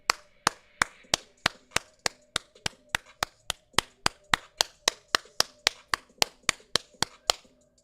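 Steady, evenly spaced sharp claps, roughly three per second, sounding close and crisp against a quiet background, with a faint low hum between strikes and no talk.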